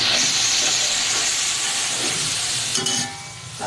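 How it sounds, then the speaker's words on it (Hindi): Chicken goes into a pan of browned onions and ginger for biryani, producing a loud, dense hissing sizzle that fades slightly near the end, no talking. "प्याज ब्राउन हो चुका है। अदरक के साथ हो गया। इसमें डालेंगे चिकन।"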